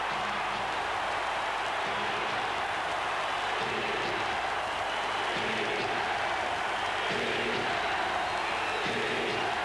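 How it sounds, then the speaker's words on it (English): A packed basketball arena crowd roars continuously during a tense NBA Finals Game 6 between the Suns and Bulls, a dense, sustained wall of cheering with rhythmic chanting swells. "And now the crowd is really a factor."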